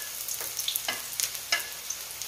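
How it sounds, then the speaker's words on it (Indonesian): Mushrooms and shallots stir-frying in a wok for fried rice vermicelli with seafood, a soft continuous sizzle with several quick scraping strokes and clinks, close, no talking. "kita tumis bahan-bahannya ya teman-teman, jamur sama bawang merah ya"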